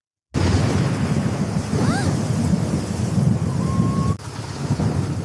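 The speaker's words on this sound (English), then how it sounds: "It's raining so hard." Heavy rain roars steadily and loudly, with a low rumble of thunder running underneath and a brief dip near the end.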